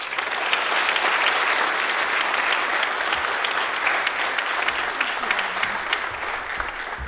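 Sustained applause from a lecture audience welcoming Florence Williams as 2017 Hartzog Lecturer at Clemson University, steady and dense clapping that fills the room for several seconds with no talk over it.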